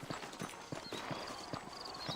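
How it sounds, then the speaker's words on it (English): Rhythmic hoofbeats of horses at a steady clip-clop pace, moderately near, with faint high tones drifting in the background, in the video game Red Dead Redemption. "I got the horses saddled up and ready out front."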